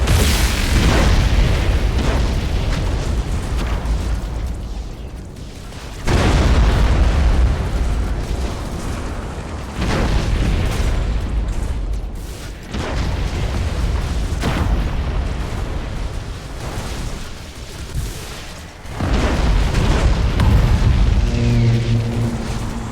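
Repeated explosions of ships and a Chaos defense platform in the space strategy game Battle Fleet Gothic: Armada 2, a dense roaring barrage of booms and bursts swelling and fading across the stretch, loud and continuous.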